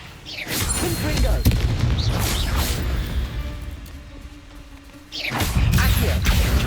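Confringo explosive spell fired in Hogwarts Legacy, a series of loud booming blasts with whooshing bursts, a sustained rumble between them and a fresh heavy boom near the end.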